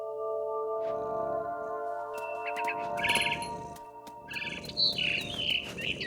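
Bird chirps and tweets ring out in the video game What Remains of Edith Finch, bright short calls arriving in clusters over a sustained tonal musical backdrop, with no talk.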